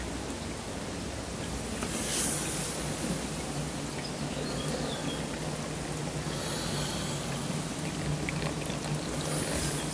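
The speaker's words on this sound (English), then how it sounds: "There's water pouring down inside that wall." Water pouring down inside a wet cellar wall, a steady hiss of trickling flow that continues without break, faint and muffled.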